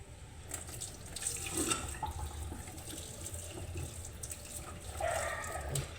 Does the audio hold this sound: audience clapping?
no